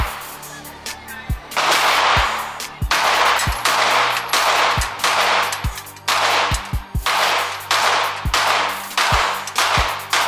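Rifle gunfire down range at a vendor showcase shooting event, a rapid string of loud, sharp shots and short bursts, some in quick doubles, with continuous booming echo and range noise between them.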